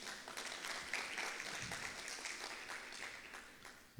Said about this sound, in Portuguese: Quem crê pode dar uma salva de palmas a Jesus.